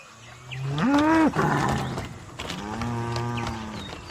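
A water buffalo pulling a wooden kangga sled gives two loud, close moos, one rising and the other long and drawn out, with faint creaking and rustling between them.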